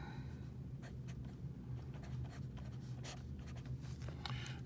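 Pen or marker writing out a calculus simplification, soft scratchy strokes in quick bursts over a low steady background hum, close and faint, no voices.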